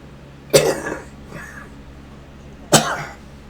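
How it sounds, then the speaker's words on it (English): A person with COPD coughs twice, two sharp, harsh bursts about two seconds apart, each trailing into a brief rattle, with a faint throat-clearing sound between them against a quiet background. "Sorry for the coughing."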